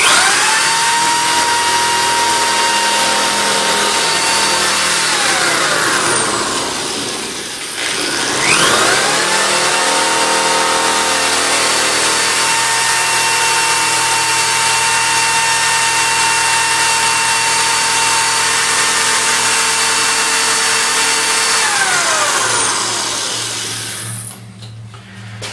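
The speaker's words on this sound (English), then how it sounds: "what we're drilling through now is that hardened steel crescent that's protecting the 12 o'clock position" A drill bores steadily through the hardened steel crescent inside a Medeco high-security lock. The motor whines with a continuous grinding tone, dips briefly partway through, then resumes and runs close and loud for about twenty-five seconds.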